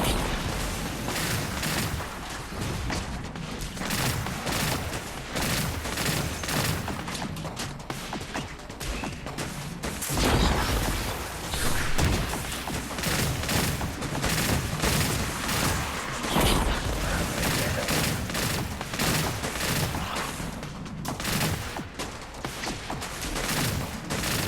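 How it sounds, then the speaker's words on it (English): Arc energy bolts fired from a shield in the Destiny Rising video game, a dense, continuous barrage of crackling blasts and booms sustained for the whole stretch at loud, steady intensity, with brief surges of heavier impacts. "I retaliated by shooting bolts of arc energy from my shield"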